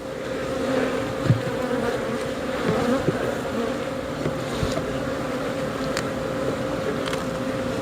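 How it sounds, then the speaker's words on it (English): Honeybees swarm around an opened horizontal hive, a dense steady buzzing drone filling the air, close and continuous with occasional brief individual bee passes. "there's lots of bees on that, so we'll set this out over here and let them get off"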